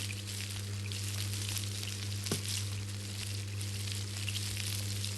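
Food cooks in the Toca Kitchen game, a steady sizzling fry with a low electronic hum beneath and one sharp blip partway through, no speech.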